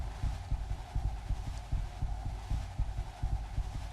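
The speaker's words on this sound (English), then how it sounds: "you hear how weird the heartbeat sounds right now? It's like an arrhythmia." An irregular, arrhythmic heartbeat plays in the modded video game Skyrim, with low muffled thumps repeating unevenly over a steady hum, close and prominent, with no talking.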